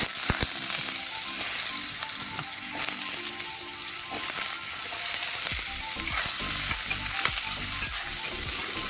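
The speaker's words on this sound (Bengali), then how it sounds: "কড়াইটার মধ্যে আবার অল্প তেল দিয়ে দিলাম আলুগুলো ভাজার জন্য" Potatoes frying in a little oil in a wok, a dense continuous sizzle with scraping stirs and crackles, close and steady with no talk.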